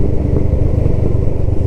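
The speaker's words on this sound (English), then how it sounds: "short little blat on the bike." A Kawasaki ER5 motorcycle engine runs steadily close by, a continuous low rumbling throb that stays even and loud from start to finish with no voices.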